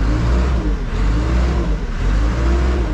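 An excavator's diesel engine drones loudly and steadily at idle revs while its front loader is raised, close by, with a constant low rumble and mechanical whir.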